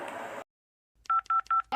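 A telephone keypad being dialed to call the police: a burst of noise, a short silence, then four crisp evenly spaced touch-tone beeps and the start of a fifth, close and loud.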